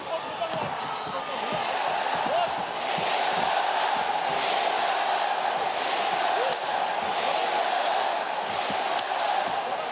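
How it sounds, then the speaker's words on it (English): Roaring arena crowd at a combat-sports fight in the Saitama Super Arena, a loud continuous wall of cheering and shouting with sharp thuds now and then, a commentator's voice running underneath. "How about the noise of this crowd? I've never heard anything like it."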